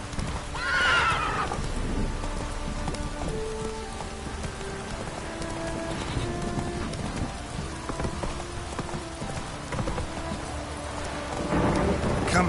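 Roach the horse in The Witcher 3, a whinny at the start and another near the end, with clip-clopping hooves between, over steady rain and rumbling thunder in the background.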